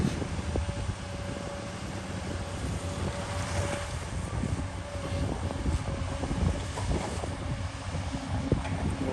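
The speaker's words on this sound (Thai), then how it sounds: "ลมเย็นๆมาเลยครับ" Cool wind gusts across the microphone beside a canal under construction, a constant rough rushing over a low engine rumble with no talking.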